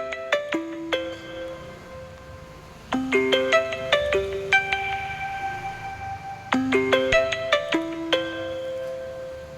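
A phone ringtone plays a repeating melodic chime pattern, loud and close, cycling three times with no voices.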